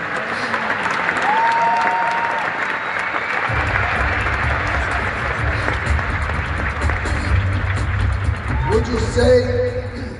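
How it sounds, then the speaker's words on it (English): An audience applauds continuously, a thick wash of clapping with voices mixed in, and shouts and cheers rising near the end. "Give all the 100 conversation people a big round of applause."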